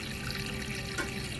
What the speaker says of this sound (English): You will get to fill up your water bottle.